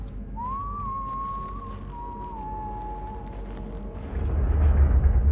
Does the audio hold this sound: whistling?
yes